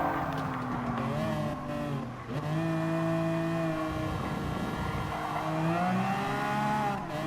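A Lamborghini Aventador Superveloce races in Gran Turismo Sport, its engine note rising and falling through gear changes, with a brief lift-off dip and renewed acceleration, fairly close and unaccompanied by talk.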